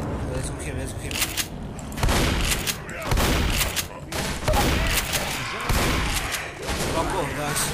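Repeated bursts of gunfire from the Left 4 Dead zombie shooter game come in loud clusters every second or so, with heavy booming shots and shouting players talking over the chaotic firefight.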